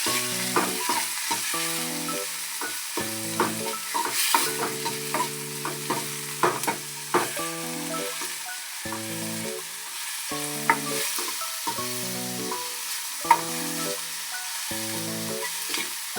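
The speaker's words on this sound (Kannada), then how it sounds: "ಹಸಿಮೆಣ್ಸಿನ್ಕಾಯಿ, ಕರಿಬೇವು ಇದೆಲ್ಲ ರೆಡಿ ಮಾಡಿಕೊಂಡು ಕಟ್ ಮಾಡಿ ಇಟ್ಕೊಂಡಿದ್ವಲ್ಲ ಅವಷ್ಟು ಇದ್ರಾಗ ಹಾಕ್ಕೊಂಡು ಸ್ವಲ್ಪ ಫ್ರೈ ಮಾಡ್ಕೋಬೇಕು" Chopped green chillies and curry leaves frying in a pan. The crackling sizzle and repeated stirring scrapes sit close under a steady, rhythmic music track, with no talking.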